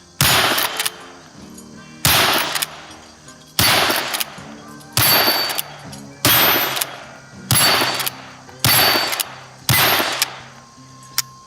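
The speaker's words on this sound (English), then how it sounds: "Let's fire a few downrange." A Henry small game carbine rimfire rifle fires .22 Magnum rounds outdoors, seven sharp loud shots spaced about every one and a half seconds, each with a short ringing tail.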